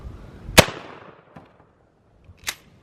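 .410 shotgun fired through a mock wall into a ballistic gel human head: one sharp, loud blast with a decaying tail, then a fainter second report about two seconds later.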